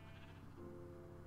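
Short, faint sheep bleat from a video game set in a desert biome, a single wavering call heard alone over a quiet background.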